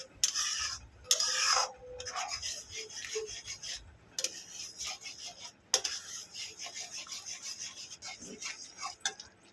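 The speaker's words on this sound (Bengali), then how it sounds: "এইভাবে আমি নাড়াচাড়া করতে থাকি" Semolina halwa stirred in a pan, making rough scraping, rasping strokes in irregular bursts with brief pauses, close and moderately quiet, no talking.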